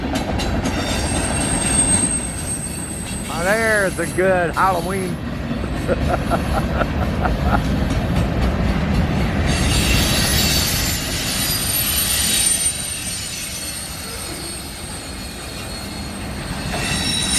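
A CN freight train with locomotives 3155 and 2855 rumbles past westbound through Battle Creek, Michigan, with a loud, continuous roar of cars and wheels, brief metallic wheel squeals early on, and a voice speaking briefly.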